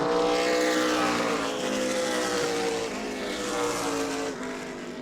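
Super Late Model race cars roar past on the New Smyrna track, a loud sustained engine drone with shifting harmonic pitch as the cars sweep by, no voices over it.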